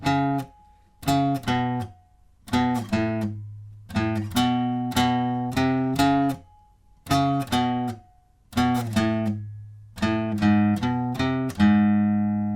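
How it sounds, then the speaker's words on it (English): Guitar playing the verse riff of a song, a clean, loud, up-close line of short plucked chord stabs in a repeating syncopated pattern with brief gaps, ending on a ringing chord. "altogether, the verse riff sounds like this."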